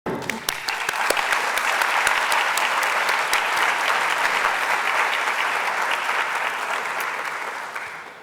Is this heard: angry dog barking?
no